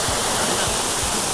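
Roaring water of Shomyo Falls, Japan's tallest waterfall, heard as a dense, loud, continuous wash of noise close by, without pause.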